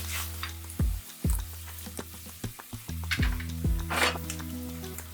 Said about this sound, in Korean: 육수나 물, 와인 등을 넣고 주걱으로 긁어내는 행동입니다.